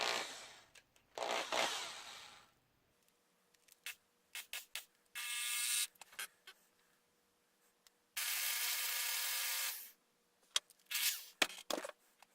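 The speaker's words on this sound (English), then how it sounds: "chuck them together in the drill." A drill spins copper and gold wire together to twist it, whirring in several bursts of varying length broken by short pauses and clicking handling noises.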